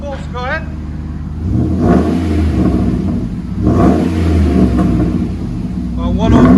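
Close, loud revving from a RAM 1500 5.7L HEMI fitted with Flowmaster Flow FX exhaust swells and falls in two or three surges, with a person talking over the deep rumble at the start and end.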